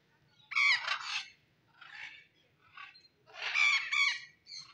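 Parrots at a zoo in Jubail, Saudi Arabia, giving harsh squawking calls in a few bursts, the loudest at the start and near the end with quieter calls between, close by against a faint background murmur.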